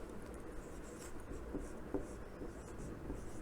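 A pen moves across paper writing Hindi letters in a handwriting lesson, a soft continuous scratchy scribble with faint stroke ticks, quiet and close, with no speech over it.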